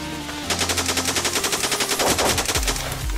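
Rapid automatic gunfire in the Blockpost video game: a loud, close burst of evenly spaced shots lasting about two seconds, followed by a few trailing shots and then a stop.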